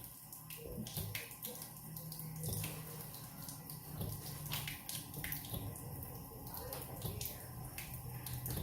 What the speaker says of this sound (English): Here's how you prime your Berkey type filters.